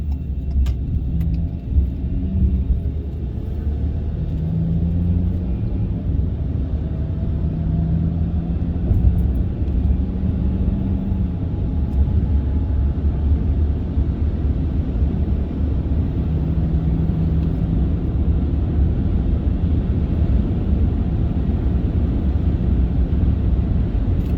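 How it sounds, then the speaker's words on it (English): A 2022 Ford Maverick cruises on the road, filling the cabin with a steady low rumble of tire and road noise and a soft engine drone, continuous and even throughout with no talking. "let you guys hear how it rides with just regular, you know, road noise"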